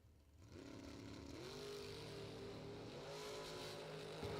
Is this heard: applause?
no